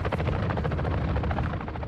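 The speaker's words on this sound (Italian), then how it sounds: "Ah, ma l'elicottero questo qui?" A helicopter in the Call of Duty DMZ video game roars loud and steady throughout, its rotor chop pulsing in a rapid, continuous rhythm with no talk over it.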